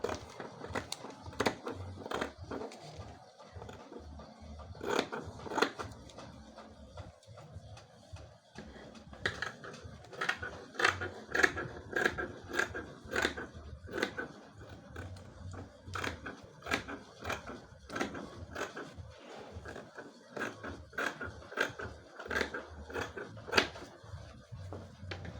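Scissors snip through blouse fabric to cut a yoke piece, giving a long series of sharp, quiet crunching cuts in uneven bursts, close by and free of talk.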